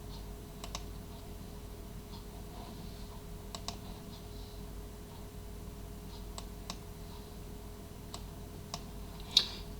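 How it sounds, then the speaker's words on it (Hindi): Sparse keystrokes on a computer keyboard while gpedit.msc is typed into the Windows Run box: faint, scattered clicks in an irregular rhythm over a low, steady room hum. "रन में आके आपने टाइप करना है gpedit.msc"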